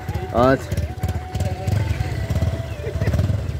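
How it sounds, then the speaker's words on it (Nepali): A motorcycle engine putters in low, rhythmic pulses close by while a person talks over it. "आज चाहिँ हामी बाइकमा जाँदैछौँ"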